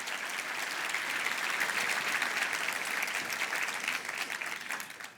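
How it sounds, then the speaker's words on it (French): A church congregation applauds the mothers of the church, steady dense clapping throughout that tapers off at the end. "Est-ce que l'Église peut donner une bonne main d'applaudissement à toutes les mamans de l'Église?"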